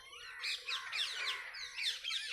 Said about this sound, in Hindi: किस तरह से पक्षी चहचहा रहे हैं।